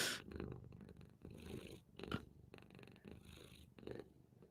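A tiny kitten purring close up, a soft rhythmic rumbling with audible breaths in and out, faint and steady with no talking.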